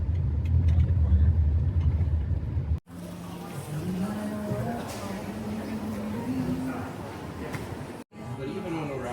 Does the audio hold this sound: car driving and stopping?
yes